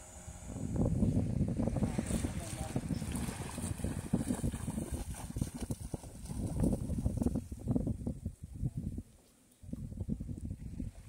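A trawler boat under way at sea near Havelock's Elephant Beach in the Andamans, its engine rumbling steadily up close beneath gusting wind noise on the microphone, with a brief drop in level near the end.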